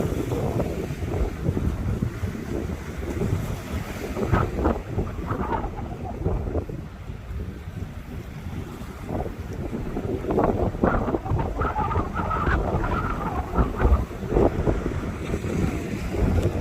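Strong wind gusts buffet the microphone outdoors near the sea, a steady broadband roar with rising and falling surges throughout, no voices.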